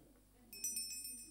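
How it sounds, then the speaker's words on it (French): A small bell on a church pulpit rings with a few bright, light strikes after a quiet pause, each chime ringing briefly, fairly faint and close. "un petit coup de cloche."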